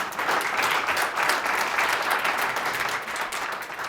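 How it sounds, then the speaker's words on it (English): An audience at a Black History Month celebration claps in sustained, dense applause at a steady even level throughout, with no speech over it. "I want you to give yourselves a round of applause."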